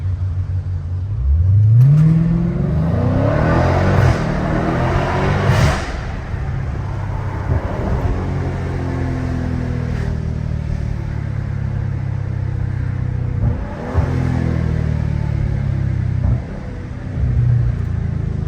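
A Dodge Hellcat Redeye's supercharged engine rumbles and accelerates hard on a late-night city street, a loud, close, continuous roar with rising revs and a couple of sharp surges, no voices over it.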